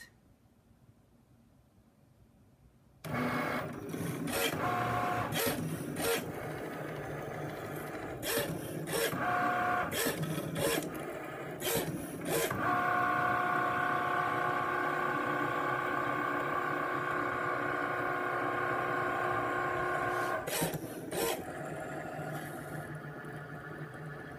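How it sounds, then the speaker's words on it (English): A Cricut Maker cuts cotton canvas with a steady, close mechanical hum and whir, punctuated by repeated short clicks and shifts as the carriage moves, after a quiet start. "I'm having the Cricut cut out my allowance for gusset"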